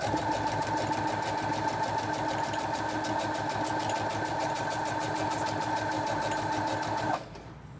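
A sewing machine stitches a notebook cover on a wobbly trestle table, running at a fast, even clatter for about seven seconds before stopping abruptly.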